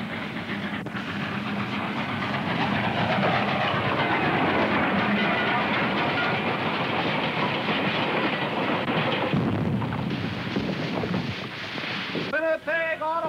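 A passenger train runs on rails with a loud, continuous rumbling roar and a rattling clatter that holds steady throughout, then shifts in tone near the end, where a voice calls out.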